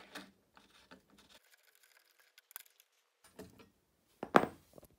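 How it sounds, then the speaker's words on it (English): A bike pedal being screwed onto a crank with a hex wrench: faint, sparse metallic clicks and scrapes with near-silent gaps, ending in a sharper, louder ratcheting turn. "Then take the hex wrench, put it through the pedal, and screw."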